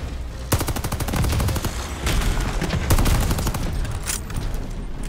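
Rapid automatic bursts from an SCG Type 11 submachine gun in Call of Duty: Vanguard, loud close fusillades of clipped shots in several runs, separated by short pauses and mixed with game ambience.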